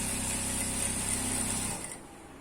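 A sewing machine stitches a seam in ankle-length pant fabric, a steady fast mechanical chatter running close and loud for nearly two seconds before stopping abruptly, leaving faint room hiss.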